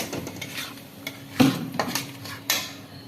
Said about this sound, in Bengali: মশলাটা কষার পর যে পেঁয়াজটা পেস্ট হয়েছিল একটু জল দিয়ে নাড়াচাড়া করছি।